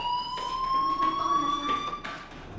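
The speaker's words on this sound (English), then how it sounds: "do you hear that fire alarm?" A fire alarm rings in a video game, a steady electronic tone with bright harmonics holding on continuously throughout, fairly loud and close with no talk over it.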